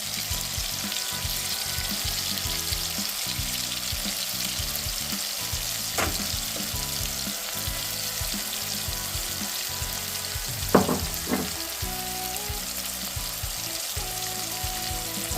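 Crushed spices sizzle steadily in a hot pan for pepper rasam, a continuous close frying hiss with a few faint clinks from stirring.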